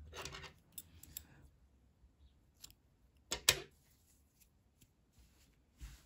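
Scissors snip through yarn during a knitting project, a few short crisp cuts close by and faint against a quiet background.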